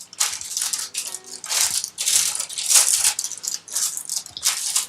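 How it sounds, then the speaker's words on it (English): Baking parchment crinkles and crunches loudly and close as it is pressed into a flan dish, a series of dense papery rustling bursts with brief pauses between them. "Line it with baking parchment."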